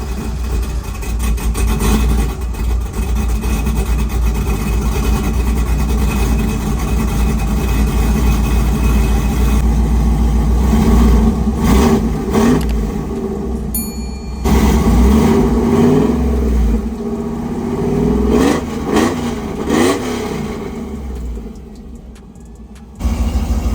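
Single cab truck engine fitted with a test-fit turbo, running loud and steady throughout with several rising revs near the middle and end, alone without talk.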